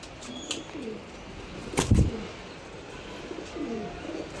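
Giribaz pigeons give soft, low cooing calls at a close distance, with a brief louder knock or flap partway through against a quiet background.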